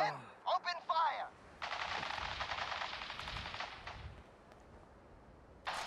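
A sustained burst of rapid machine gun fire in a tense audio drama confrontation, loud and close after a few short shouts, then fading to a quiet background.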